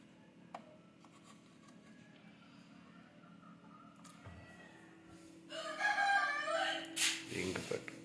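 A black country hen and her chicks on a village homestead, soft clucking and chick peeps building to a loud nearby crow and cackling burst toward the end.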